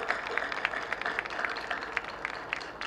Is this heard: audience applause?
yes